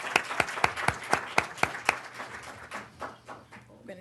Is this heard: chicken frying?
no